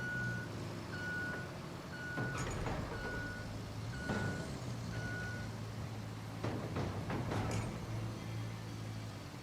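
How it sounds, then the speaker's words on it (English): In the RoadCraft truck game, a vehicle coupling hooks onto another car with a few sharp metallic clinks, amid steady reversing beeps and a low engine rumble. "I actually heard the clink of it connect to the other car"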